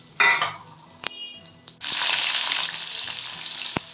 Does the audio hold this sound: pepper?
yes